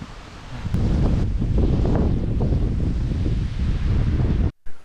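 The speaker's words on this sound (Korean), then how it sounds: "아, 바람 억수로 부네, 바람" Strong wind buffets the microphone at a mountain temple at Maisan, giving a loud, continuous roaring rumble that cuts out abruptly near the end.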